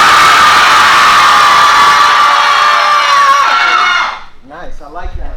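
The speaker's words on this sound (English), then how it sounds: "On the count of three, you're going to scream as loud as possible." A group of people in a fitness class screaming as loud as they can, a loud sustained mass of voices that holds for about four seconds, then cuts off into quieter breathing and murmurs.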